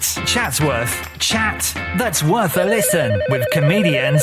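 A mobile phone ringtone rings loudly and steadily over a comedy radio show, with a repeating electronic melody that continues as people talk over it.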